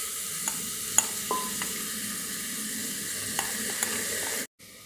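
Rice and dal being stirred in ghee for brown rice khichdi, with a steady soft sizzle and a few light scrapes of the spoon, fairly quiet, before an abrupt cut to silence near the end.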